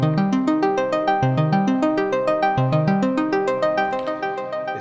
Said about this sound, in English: Now this Ice of Enceladus preset, straight out of the box, sounds like this.